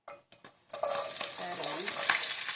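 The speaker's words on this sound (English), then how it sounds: "I already have the oil in the pan, and I'm going to go in and start adding" Kale stems tipped into hot oil in a pan: a few soft knocks and clatters, then a sudden loud, steady sizzle that crackles on close by.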